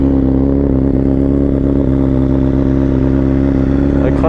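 A 2020 BMW S1000RR M sport motorcycle fitted with an Akrapovic exhaust idles loud and close with a rough, throbbing burble, then blips its throttle near the end, with no voices over it.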